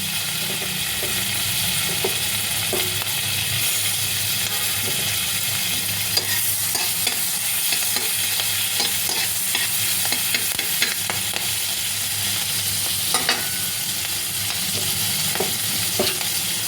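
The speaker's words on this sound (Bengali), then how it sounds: "দিয়ে দিলাম ছোটো একটা কিউব বাটার। ব্যাস এটা মেল্ট হয়ে গেলেই আমি দিয়ে দেবো কাঁচা লঙ্কাটা" Green chillies frying in melted butter in a pan give a steady, close sizzle throughout, with occasional light clicks of stirring and no voices.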